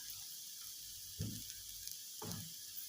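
Chopped onion sautéing in a pan with salt for dhaba-style paneer bhurji, a steady, faint sizzling hiss broken by two brief louder stirring scrapes.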